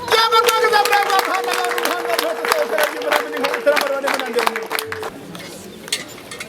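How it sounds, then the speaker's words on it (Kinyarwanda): Guests clap at a dowry-giving ceremony in Gisenyi, a dense patter of hands over a sustained voice that thins out and fades near the end. "turagushimira gukomera amashyi"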